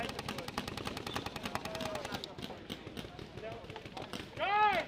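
Rapid paintball marker shots from a Planet Eclipse Etha 2 during an outdoor paintball game, bursts of quick popping fire in fast runs, with players shouting and talking throughout.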